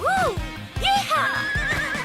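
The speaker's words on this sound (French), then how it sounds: "Maintenant, Shani, j'espère que tu es prête à galoper un peu." A horse neighs loudly and close in a cartoon setting, several high whinnying calls in quick succession with faint hoof clatter underneath.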